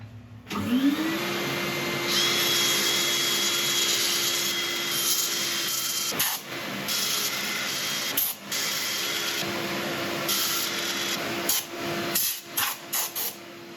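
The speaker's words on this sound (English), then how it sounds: "I shall set up for sanding." A power sander whines at a steady pitch against a chestnut burl, with a loud rushing drone that cuts out briefly several times and then restarts in short bursts.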